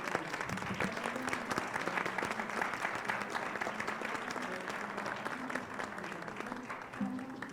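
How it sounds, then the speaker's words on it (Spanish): An audience applauds panelists at the close of a panel discussion on digital education, with steady, sustained clapping from a moderate crowd, even in volume and continuing throughout. "Un merecido aplauso a todos nuestros panelistas."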